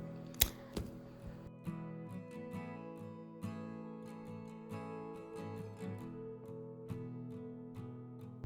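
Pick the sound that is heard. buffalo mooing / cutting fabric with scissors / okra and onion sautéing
cutting fabric with scissors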